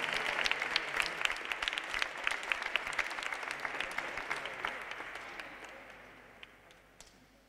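Audience applause at a youth chess tournament trophy ceremony in a sports hall, a dense burst of many hands clapping that fills the room, then slowly thins out and fades near the end.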